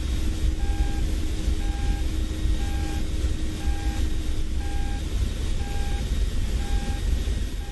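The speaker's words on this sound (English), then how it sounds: "When a radar is tracking us, we'll hear a slightly faster beeping tone." Short, evenly spaced electronic radar-tracking warning beeps from a Mi-24P Hind in the DCS flight simulator repeat steadily at a quick pace over a constant low rumbling hum.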